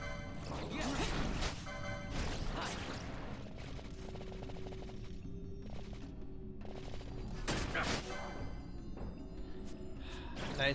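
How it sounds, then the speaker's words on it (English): A video game explosion in Final Fantasy XII sets off a burst of crashing, smashing impacts and clattering debris against continuous busy game sound, with further bangs near the start and end. "Nice on triggering the explosion, buddy."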